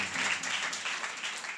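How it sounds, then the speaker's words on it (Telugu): An audience at a church sermon claps loudly together, a dense, steady burst of applause lasting under two seconds with no voices over it. "ఈరోజు చప్పట్లు కొట్ట గట్టిగా."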